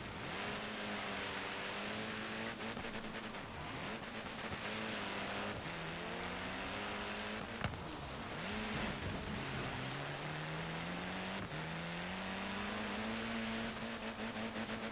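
Engine of a car drifting on a snowy mountain course in the Forza Horizon 3 racing game: a steady droning engine whose pitch rises and falls as the car revs and slides, continuous, with no talking.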